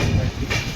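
Train standing at Shimiliguda railway station on the Visakhapatnam to Araku line, with a steady low rumble and rail noise filling the short moment, fairly close and continuous.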